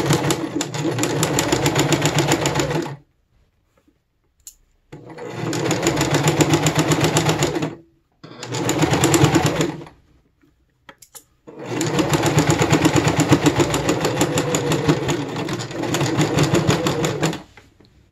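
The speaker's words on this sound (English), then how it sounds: "Now it's time to sew the final seam." A sewing machine stitches the final seam of embroidered Tudor cuffs, running in four rapid whirring bursts separated by short pauses, close and loud with no voices.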